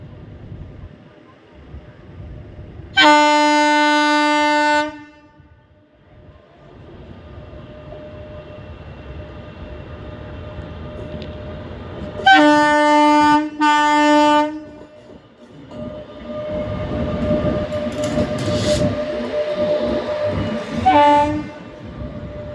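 A WAP-7 electric locomotive (30449) rumbles past on the Madurai–Bodinayakanur line, heading from Bodinayakanur station to Madurai, with two long, loud horn blasts and a shorter third one, wheels clattering in between.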